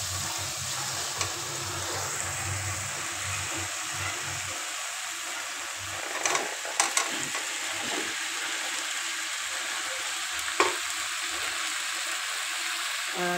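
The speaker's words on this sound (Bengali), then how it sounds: "এই তো মশলাটা আমি এভাবে কষাই নিচ্ছি।" Spice paste for a meat curry sizzles and fries steadily in a pan, a continuous close hiss with a few brief clinks and stirring knocks, no voices.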